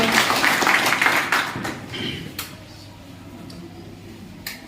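An audience at a farmers' gathering applauds the village head with a burst of dense clapping that fades after about two seconds into a quieter room, where a few isolated claps follow.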